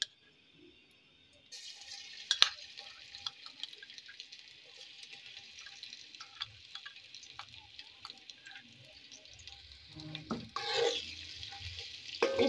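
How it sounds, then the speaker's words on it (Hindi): Ginger garlic paste frying lightly in oil and ghee in a handi for chicken green handi, a steady hissing sizzle with scattered crackles and pops, close up, alone without talk. "इसको हम हल्का सा फ्राई करेंगे, बिल्कुल हल्का सा।"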